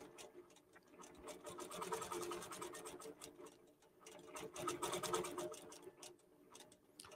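A QBOT quilting robot drives a sewing machine on an applique quilt, producing a soft, fast stitching patter that speeds up and slows down in two swells while working into tight areas.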